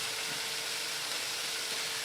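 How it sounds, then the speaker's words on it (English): Bologna slices fry in a hot pan without butter or grease, giving a steady, even sizzle like hissing white noise, close and constant with no talking. "Love that sizzle. You gotta love the sizzle."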